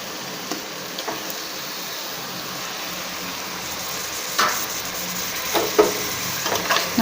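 Chicken sizzling in a pan with softened onions and tomatoes for a roasted-paste chicken curry, a steady frying hiss with a few louder stirring scrapes near the end.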